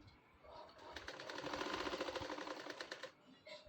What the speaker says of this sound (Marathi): आता आपल्याला तो कपडा घ्यायचा व विरुद्ध साईडने ठेवायचा व त्याच्यावर शिलाई मारून घ्यायची.